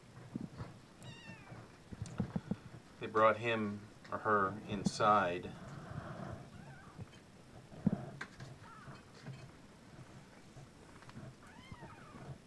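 A kitten, dragged indoors by puppies, meows repeatedly in high, wavering cries at close range, with a person talking over and between the calls.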